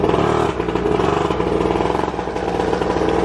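A Syx Moto 50cc kids' dirt bike engine runs loud and close, a steady rapid buzzing putter with slight wavering revs throughout.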